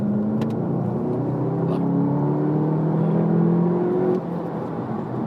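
A 2017 Volkswagen Golf GTI Clubsport engine revs steadily and loudly up close, a sustained droning note rising in pitch over several seconds before dropping to a lower, quieter tone near the end.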